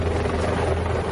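A helicopter's rotor thrums loudly and continuously, a dense steady chopping roar close by.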